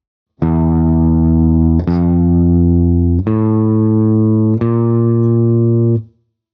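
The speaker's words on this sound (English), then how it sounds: "Keep those fretted notes nice and long by holding your finger down right up until you play the next" Four long, ringing guitar notes, each plucked and held until the next begins, evenly spaced and loud, fading out after the last.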